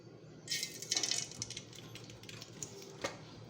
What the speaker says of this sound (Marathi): तेल गरम होत आल्यानंतर त्याच्यामध्ये मी मोहरी टाकणार आहे